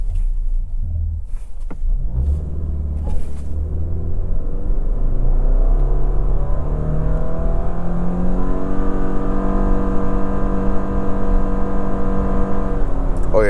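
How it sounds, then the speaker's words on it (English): A 2024 Subaru Crosstrek Limited launches with brake boost, its engine droning from a low rumble into a rising, steady pull through the rev range, heard loud and close from inside the cabin with no talking. "This time I am going to brake boost it."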